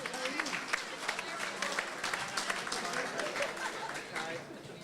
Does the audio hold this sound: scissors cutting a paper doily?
no